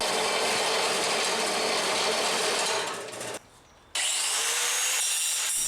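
A bandsaw cuts through 1 inch steel angle about 1/8 inch thick, giving a loud, continuous grinding hiss that briefly drops away for a moment before resuming at full strength.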